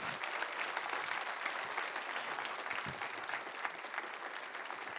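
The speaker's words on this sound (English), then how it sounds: "Give him an applause, please." Steady, dense applause from an audience at an award ceremony, a continuous wash of many hands clapping heard at a distance, fairly soft and unbroken throughout.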